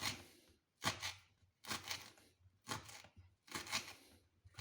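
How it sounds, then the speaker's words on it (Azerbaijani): Fresh dill being minced with a knife, five rhythmic bursts of brisk chopping against a board with brief gaps between them, close-up and alone without speech. "Bax, deməli şüyüdümüzü bax bu şəkildə xırda-xırda doğrayırıq."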